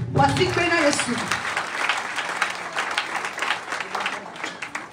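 A church congregation applauding and cheering the Lord during a worship service, a broad wash of clapping that swells at the start and then continues steadily, with voices calling out over it.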